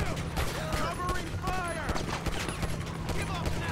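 Rapid gunfire bursts in the video game GTA 5, where a pistol is drawn, popping repeatedly over a busy game background with whooshing and mechanical sounds, moderately loud.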